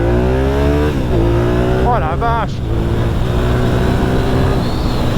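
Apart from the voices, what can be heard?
1997 Suzuki TL1000S motorcycle engine accelerating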